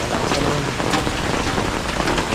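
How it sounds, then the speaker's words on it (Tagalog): Heavy rain pouring steadily, a dense loud hiss of drops drumming on surfaces with no letup. "malakas na naman ang ulan"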